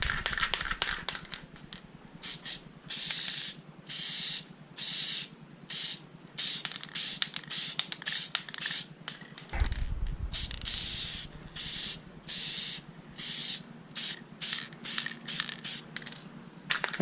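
A spray can laying a light coat of Plasti Dip onto Hyundai badges gives repeated short hissing bursts, roughly one per second, close and loud, with a longer continuous spray in the middle and no talking.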